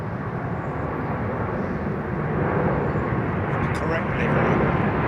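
A Korean Air airliner climbs steeply away on departure at sunset, its engines a steady, loud, broad roar that holds throughout and swells slightly toward the end.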